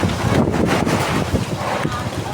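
Strong wind during a fire buffets the microphone with loud, rumbling gusts, roaring continuously and overwhelming the scene.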